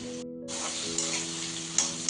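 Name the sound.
onions and green chilies frying in pan for egg fry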